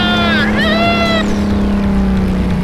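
A race car engine hauls down a straightaway during a 24 Hours of Lemons endurance race, giving a loud sustained drone with a rising and falling whine, while a voice talks over it.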